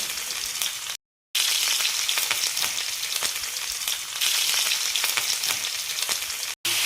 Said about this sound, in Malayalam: അപ്പോൾ നമ്മൾ കൈയെടുക്കാതെ ഇങ്ങനെ ഒന്ന് ഇളക്കി കൊടുക്കുക